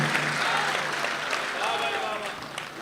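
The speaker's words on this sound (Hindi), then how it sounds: "एक मरतबा तालियां बजाएं तो भाई" An audience at a live Urdu poetry mushaira in Dubai breaks into sustained applause for a poet. The clapping forms a continuous crowd wash while someone speaks over it.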